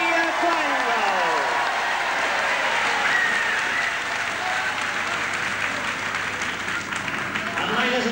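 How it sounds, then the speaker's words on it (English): Applause from the crowd at a 1970s televised professional wrestling bout, a broad sustained roar of clapping heard alongside a voice and some ringing hall noise throughout. "I'm sure everybody here will give a very big round of applause for Johnny Quango."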